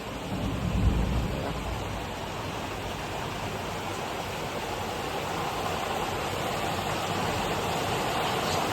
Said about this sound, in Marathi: 12 वाजता ना म्हणजे अशी वीज चमकत होती आणि 3 वाजता पाऊस पडायला लागला